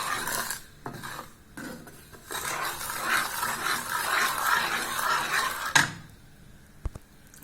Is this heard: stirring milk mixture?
yes